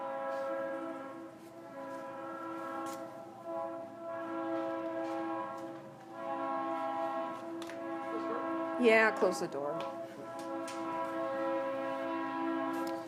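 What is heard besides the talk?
train passing outside with horn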